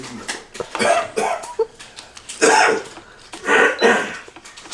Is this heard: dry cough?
yes